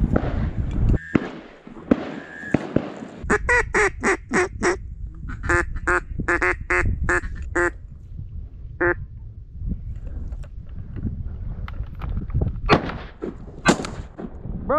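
Shotgun blasts fired at a duck during a creek duck hunt, with several loud, sharp reports spaced across the clip and a duck quacking in a steady run of calls between them; voices talk briefly near the end.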